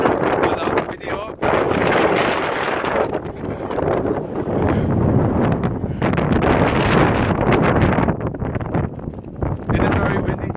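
Strong gusts buffet the microphone on a hiking trail along the Laugavegur and Fimmvörðuháls route in Iceland, a loud continuous roar that surges and dips, with a voice speaking faintly beneath it.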